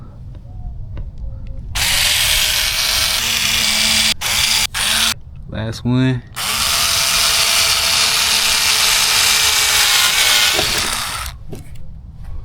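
Power drill boring holes into a Dodge Charger R/T for a wickerbill install, loud sustained whine with brief stops and a short revving burst midway, close up, with a few spoken words.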